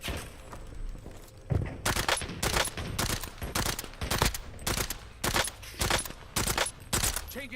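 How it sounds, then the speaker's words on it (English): Rapid rhythmic volleys of marksman rifle shots crack out in Call of Duty: Black Ops 7, a steady series of loud, closely spaced reports firing roughly every third of a second over several seconds. "Is this the battle of the marksman rifles?"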